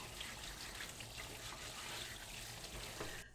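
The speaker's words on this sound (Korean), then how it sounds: "흐르는 물에 헹궈주세요" Tap water runs steadily over a kabocha squash being rinsed, a soft continuous splashing stream with light spatters, fairly quiet and close, with no talking.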